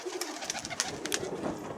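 Domestic pigeons coo softly in short repeated notes, with scattered clicks and light knocking over them.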